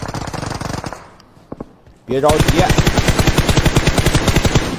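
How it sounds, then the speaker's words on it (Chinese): Rapid automatic gunfire from PUBG Mobile gameplay bursts in loud and fast after a brief pause, following a short stretch of talking and a few scattered shots. "这边有枪声啊"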